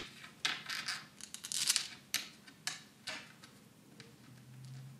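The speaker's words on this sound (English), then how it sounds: "To connect them together, you need one M3 25mm bolt and just push the bolt through" An M3 25mm bolt is pushed through 3D-printed plastic chain links, making a string of faint, close clicks and ticks with small scraping bursts. The sounds are irregular, brief and quiet, with no talking.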